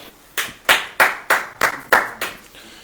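A church congregation at a Hindi-language Christian service claps their hands together in a quick series of about six sharp, evenly spaced claps, fairly close and alone.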